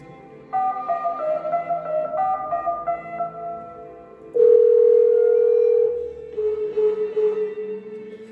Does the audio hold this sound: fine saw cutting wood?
no